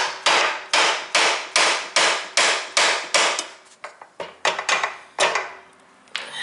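A hammer strikes the steering gear box of an EZ-GO TXT golf cart to shock a part free, giving about fourteen loud, sharp metallic blows in a fast steady rhythm, slightly uneven near the end.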